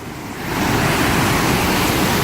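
Water roars at the head of Blakiston Falls, a dense, steady rush that swells within the first half second and then holds loud and unbroken, with no voice over it.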